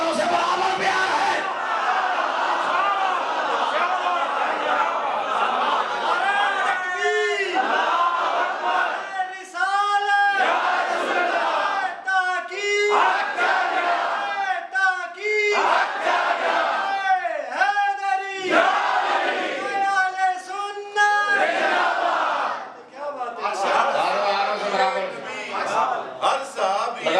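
A large crowd at a religious gathering led by a mufti in Jhamra roars back a slogan in unison, with repeated loud chanted call-and-response waves punctuated by a preacher's amplified voice between shouts.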